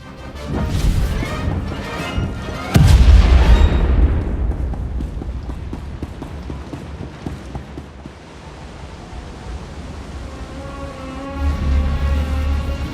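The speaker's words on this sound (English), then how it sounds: "Prepare to fire weapon on my command" Ship weapon fire in the space combat of the video game Star Wars: The Old Republic, a loud crashing blast that hits at once and rolls off into a rumbling tail, with a second deep swell near the end.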